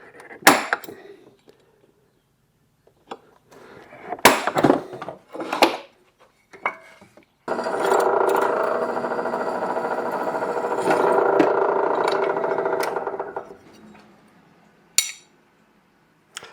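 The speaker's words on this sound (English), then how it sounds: "now I'm using a center punch to punch that spot" Sharp metallic taps from a center punch striking a metal cargo trailer roof come one at a time at irregular intervals, then a steady whirring hum runs for several seconds before one last clink.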